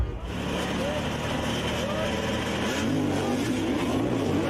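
Off-road enduro motorcycles revving hard at the start of a Red Bull Romaniacs race, a dense, continuous engine roar with rising and falling pitch, loud and steady, with a commentator's voice over it.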